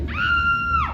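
A woman lets out one sustained, high-pitched scream that holds steady and then drops away at the end, staged as a horror-movie shower scene during a live special effects show at a Hollywood studio.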